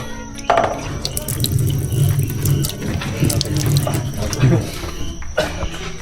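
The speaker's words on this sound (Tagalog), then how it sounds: "Ito yung hugasan. Oh, kasing tubig." Tap water runs steadily into a sink at a washing area of a campsite in La Trinidad, Benguet, a continuous close splashing with drips, while a voice talks over it.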